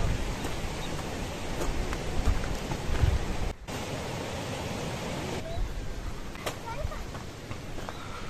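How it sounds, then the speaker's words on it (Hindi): Rain begins falling outdoors on a scenic mountain track, a dense, steady hiss of drops close by with a brief dropout partway through. "बारिश शुरू हो गई है"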